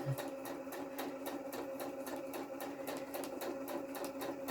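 A sewing machine stitches a seam on a black quilt top, a rapid steady mechanical whir with evenly repeating needle clicks, close and fairly quiet, running alone.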